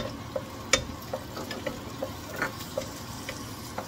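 Tomato added to sautéed onions in a pan for pochero, sizzling steadily with sharp ticks and taps of a spoon stirring, close and moderately quiet, no talking.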